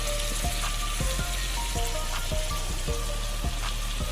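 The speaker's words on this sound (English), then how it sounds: "Then I'm gonna add my shrimp that I seasoned previously," Seasoned shrimp sizzle in a hot pan on a stove set fairly high, a steady close frying hiss with faint regular ticks and pops throughout.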